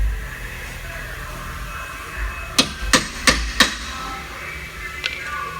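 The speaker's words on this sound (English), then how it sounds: "it shrinks the metal slightly so they slide in and hammer in easier" Four sharp, evenly spaced hammer strikes drive subframe bushings into a Nissan S13 car subframe in a garage, loud and close over a steady background hum, followed by a couple of fainter taps.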